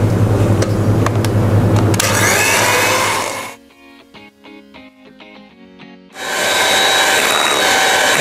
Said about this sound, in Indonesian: saya menggunakan whipping cream cair, nanti kita akan mixing sampai dia soft peak